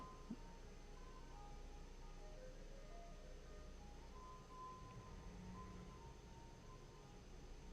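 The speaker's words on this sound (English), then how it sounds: "the jerk from the ice cream truck coming by to ruin it at the end" An ice cream truck passing by, its faint, distant chiming melody drifting over a low steady rumble with no talking.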